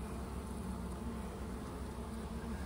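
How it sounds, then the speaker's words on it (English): A dense, steady buzz of honeybees hanging on comb and drawing wax during a hive inspection hums close up, continuous and unbroken for a few seconds. "See the bees hanging there, drawing wax"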